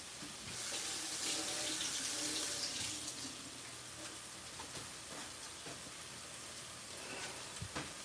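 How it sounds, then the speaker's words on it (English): A kitchen sink tap runs steadily as hands are rinsed under it. The water is loudest in the first few seconds, then settles into a softer, continuous splash with small clinks. "I'm gonna rinse my hands off."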